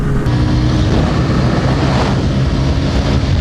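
Bajaj Pulsar N160 and TVS Raider 125cc motorcycles drag racing, heard as a steady, loud, wind-buffeted engine roar sustained throughout from an onboard position, with no talking.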